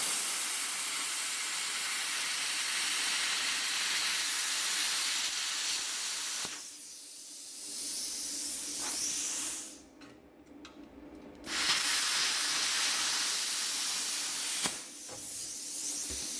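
Bestarc 50 amp plasma cutter slicing 18 gauge galvanized steel at 20 PSI and 15 amps, a steady loud hiss broken by short pauses and shifts in tone as the torch moves along the sheet.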